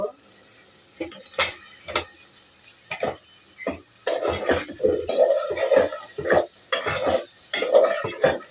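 Fried potatoes tipped into sizzling masala for a fish bhuna and stirred, repeated scraping strokes of a spoon against the pan over a bubbling fry, rhythmic and close.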